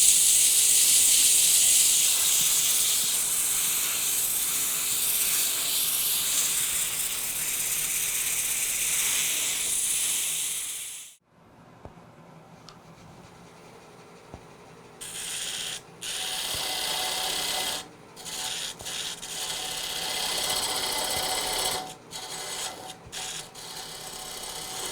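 Sanding an amboyna burl wood box spinning on a lathe gives a loud, steady hissing rasp for about ten seconds. After a sudden stop come quieter, intermittent bursts of rubbing.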